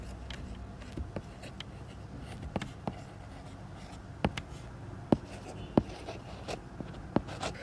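Pen writing by hand on paper while filling in an accounting T-account, soft scratchy strokes broken by sharp taps and pauses, close and quiet.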